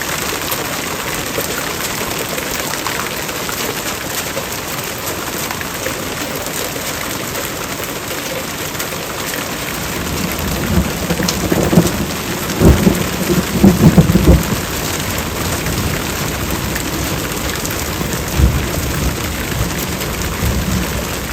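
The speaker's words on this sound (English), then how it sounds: "you get a terrible storm, which we just had, a huge hailstorm" A heavy hailstorm with pouring rain drums steadily over a garden where old grapevines are being transplanted, and rumbles of thunder swell in the middle and roll away again.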